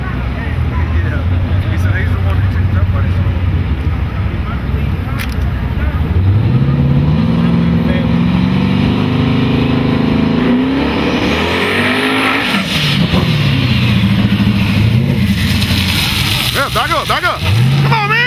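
Boost Doctor's race car on a shakedown run at a Thunder Valley drag event, its engine loud and near, rising and falling through repeated revs with tire squeal over crowd noise and voices.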